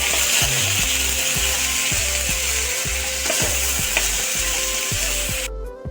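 Half-boiled tomatoes fry in a pan with a steady sizzle, while a spatula scrapes and knocks rhythmically against the pan, close and loud, with no talk.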